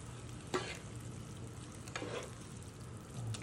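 Noodles frying in a hot pan and being stirred, a steady sizzle with a few sharp scraping tosses at intervals, close and fairly quiet, with no talking.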